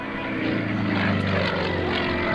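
A propeller-driven aerobatic airplane performs at the 2003 Dayton airshow, its engine a steady, fairly loud droning roar that holds throughout the passage, with no voices over it.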